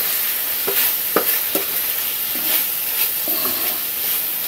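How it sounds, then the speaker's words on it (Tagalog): Chicken and bok choy stir-fried in a pan with a little sugar make a continuous loud sizzle, with several quick spatula scrapes and tosses sounding over it. "Haluin natin."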